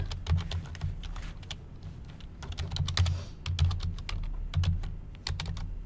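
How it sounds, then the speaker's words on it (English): A query being typed on a computer keyboard: steady bursts of crisp, close key clicks with irregular rhythm and brief pauses, heard alone without talk. "I'm going to type this in."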